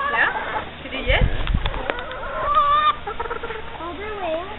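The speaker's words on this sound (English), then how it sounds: "Wanna hold the chicken?" A hen clucks and squawks in short bursts while being held by hand, close to the microphone, with people talking over and between the calls.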